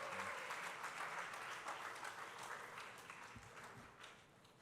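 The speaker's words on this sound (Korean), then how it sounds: "우리 박수로 축복하겠습니다." Applause from a congregation at a Korean church youth service, steady crowd clapping that fades slightly toward the end.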